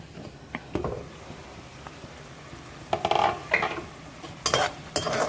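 Mutton fries in a karahi for koyla karahi gosht, a metal spoon clanking and scraping against the pan in scattered bursts over a faint, low sizzle.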